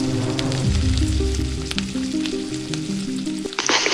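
Garlic-ginger paste and salt frying in oil for beef nihari, a loud, close, continuous sizzle with occasional stirring and a sharp hiss near the end.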